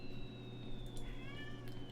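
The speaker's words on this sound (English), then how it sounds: "that is my cat making that noise" A pet cat meowing close by in a quiet room, a drawn-out tonal meow that rises and wavers over a low steady hum, no talk.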